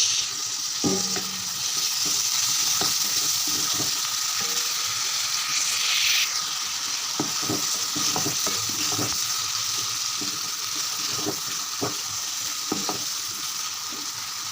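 Chopped tomatoes and green chilies hit a pan of frying garlic and ginger for dhaba-style chana dal fry, giving a steady close sizzle with scattered clinks and scrapes of stirring throughout.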